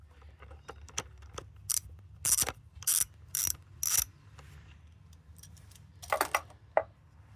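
A ratchet with a deep socket turns 10mm heat shield bolts on a Ford Fiesta Mk6 TDCi. Short bursts of close, crisp clicking come in several spaced runs, with light metallic taps in between and no speech.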